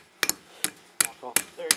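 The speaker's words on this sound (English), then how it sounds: "if I take a hammer, it'll probably just come on off" Sharp hammer taps on a bearing being knocked off a 2004 Mercury Mountaineer/Ford Explorer 8.8-inch differential, five distinct metallic strikes at uneven intervals, close and loud, some in quick doubled pairs.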